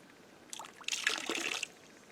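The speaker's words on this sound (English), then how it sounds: "you're going to slowly let the water come around" Water swirling and trickling around a gold pan while crevicing for gold in Arizona, a soft liquid wash rising for about a second and then fading, with no talk.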